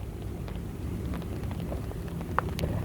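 Steady outdoor rain falling as a soft, continuous hiss with scattered droplet ticks and a faint low rumble underneath, quiet and even throughout.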